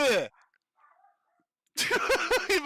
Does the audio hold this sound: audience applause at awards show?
no